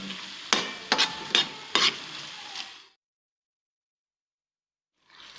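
Keema sizzling in oil in a pan with salt, red chilli powder, turmeric and lemon juice, stirred with a few sharp scraping knocks over a steady fry, then the sound cuts to silence before resuming briefly at the end.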